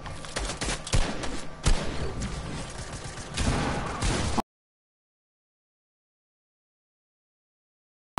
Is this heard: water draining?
no